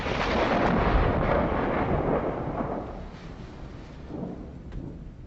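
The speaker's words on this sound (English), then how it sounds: "The sound of thunder may indicate divine intervention or anger." A loud rolling rumble of thunder swells at once and slowly fades over several seconds, with a smaller second surge near the end, heard alone without voices.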